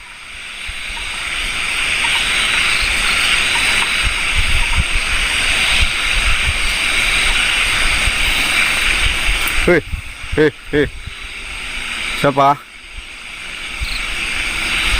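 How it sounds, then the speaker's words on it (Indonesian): Strong wind gusts roar steadily around a tent at a night campsite, a loud, broad rush throughout, broken near the end by a few short spoken words. "Angin kencang banget teman-teman."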